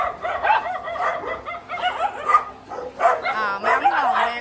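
Dogs at an animal shelter crowded with dogs and cats bark and yip in short bursts, with whimpering and a rising whine near the end, while a person talks over them.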